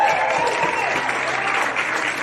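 A crowd at a women's football grand final cheers and applauds in a steady, dense wash of clapping that holds throughout.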